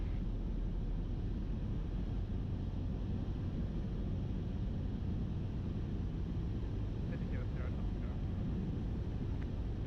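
Steady drone of a light training aircraft engine in flight during a circuit turn, a continuous loud broadband hum heard from inside the cabin, with faint radio chatter in the background.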